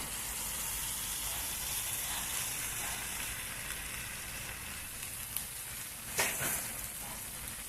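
Cooked rice is folded slowly with eggs and masala in a hot pan, giving a continuous close sizzle with a couple of faint scrapes from the spatula near the end.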